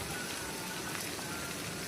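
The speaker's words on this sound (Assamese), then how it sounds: "পিঁয়াজখিনি অলপ ভাজি ল'ম।" Chopped onion sizzling in hot oil left over from frying fish, a steady, dense crackling hiss that stays even and close throughout with no voices.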